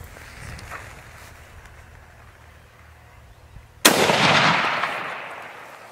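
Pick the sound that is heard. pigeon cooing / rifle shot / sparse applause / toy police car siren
rifle shot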